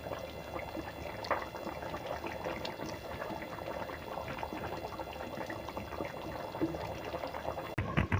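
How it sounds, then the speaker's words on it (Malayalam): Tuna curry with chili bubbling in a pot on the stove, a soft, steady simmering burble that carries on evenly throughout, faint and close with no voices. "നമ്മുടെ കൂട്ടാൻ നന്നായിട്ട് തിളച്ചിട്ടൊക്കെ വന്നിട്ടുണ്ട്"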